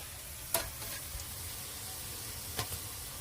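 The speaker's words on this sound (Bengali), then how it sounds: "এবারে দিয়ে দেবো আদা ও রসুন বাটা" Ginger-garlic paste frying in a pan with fish gives a faint, steady sizzle, with two brief scraping taps of a utensil a couple of seconds apart, and no speech.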